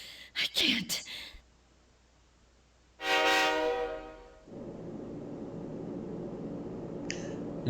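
A passenger train in the video game Persona 3 Portable: sharp clicks give way to a loud rising horn-like blare, then a steady low rolling rumble of the moving carriage continues alone.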